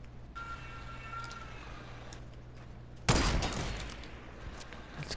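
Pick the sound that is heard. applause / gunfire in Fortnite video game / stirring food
gunfire in Fortnite video game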